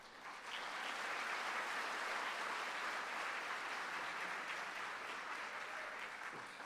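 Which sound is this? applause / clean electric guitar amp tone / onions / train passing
applause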